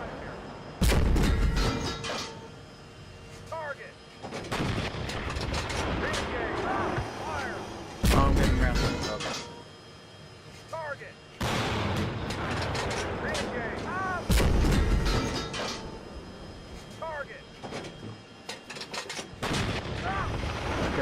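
Tank cannons firing in a combat video game, several heavy booms spaced a few seconds apart over a rumbling engine bed, with voices talking between the shots.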